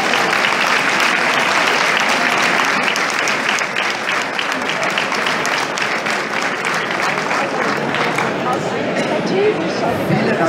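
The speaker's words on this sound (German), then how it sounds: "Vielen Dank für diesen Applaus." A crowd applauds at an SPD New Year's reception in Munich's Augustiner Keller, a continuous dense wash of clapping that holds steady and loud from start to finish, with some chatter mixed underneath.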